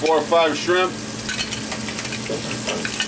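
Shrimp sizzle as they drop into a hot pan of lobster and shellfish fra diavolo, a steady close frying hiss with a brief louder burst at the start.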